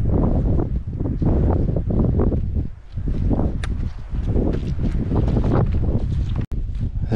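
Strong gusty wind on the hill Gulvain buffets the microphone in heavy, rumbling bursts, nearly continuous and loud, with no voices.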